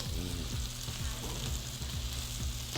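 Salmon bites sear in a hot pan with a steady, loud, close crackling sizzle that runs unbroken, over a faint low hum.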